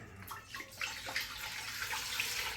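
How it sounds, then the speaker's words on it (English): Chicken broth pours into a big stock pot as a steady, splashy liquid stream, near and fairly quiet, with no talk over it. "I use some chicken broth and empty that into a big stock pot."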